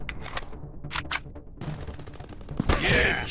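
Gunfire in the mobile shooter game Counter Terrorist FPS Shooting 3D, short sharp bursts and single shots with pauses, then a denser rapid volley near the end, with no speech.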